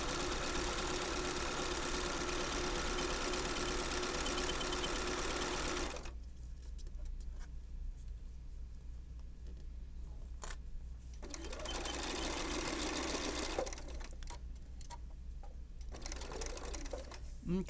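A sewing machine stitching a zipper bag runs loud and close, then drops to a quieter labouring hum as it strains over a thick bump before speeding up again, with a voice talking over parts of it.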